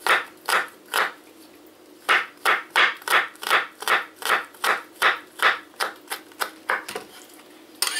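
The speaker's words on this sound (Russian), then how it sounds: "Сейчас я нарежу туда чеснок." A knife taps quickly on a cutting board while garlic is chopped for a sour cream batter, giving crisp, evenly spaced knocks in a steady rhythm with a couple of short pauses.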